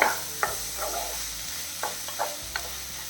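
Vegetables sizzle quietly in a frying pan while a utensil scrapes and stirs them with a few sharp clinks and taps.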